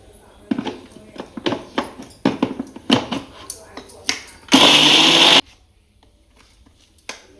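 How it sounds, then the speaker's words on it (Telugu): A kitchen mixer grinder coarsely grinds soaked cowpea lentils for savoury fritters, in one loud whirring burst of about a second, set between stretches of a woman's speech. "తర్వాత బొబ్బరి పప్పును మిక్సీ పట్టుకోవాలి."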